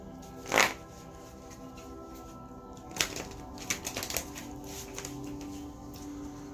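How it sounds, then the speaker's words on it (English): A deck of tarot cards shuffled close by: one quick riffle, then a few soft taps and flutters of cards, quiet otherwise. "But to do one more quick shuffle."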